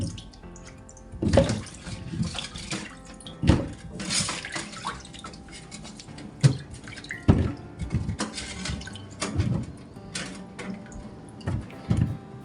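Water pouring and draining through a small kitchen colander while making tomato velouté soup, with irregular splashing bursts and trickles recurring across the whole stretch at moderate loudness, no talking.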